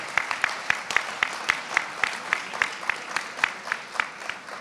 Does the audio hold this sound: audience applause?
yes